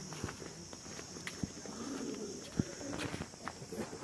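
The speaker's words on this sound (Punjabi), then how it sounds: "ਚਿੱਟੇ ਚੀਨੇ ਕਬੂਤਰ" Soft cooing of white pigeons in the distance at a zoo, among a few light footsteps and faint rustles, with quiet murmuring voices in the background.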